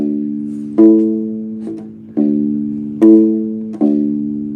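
A bass ukulele (U-bass) plays single sustained plucked notes in a root-fifth pattern, about five in a row, each ringing and fading before the next, alone and close.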